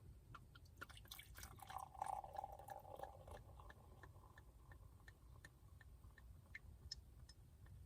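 Chilled champagne fizzing in a glass gives soft, close crackles and scattered tiny pops, with a brief gentle pouring trickle early on, all quiet.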